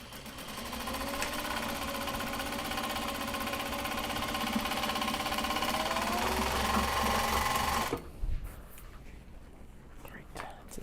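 A sewing machine runs steadily at speed while stitching a straight seam during logo branding work, a continuous close whirring drone that cuts off abruptly near the end, leaving quieter room noise.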